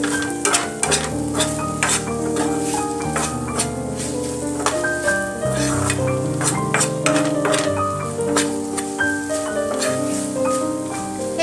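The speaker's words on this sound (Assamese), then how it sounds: "পানীখিনি শুকুৱালৈকে অকণমান ভাজি দিব।" Oil-free boiled chicken cooks down in a pan while being stirred, with repeated scraping strokes and faint sizzling over a steady background of tonal music.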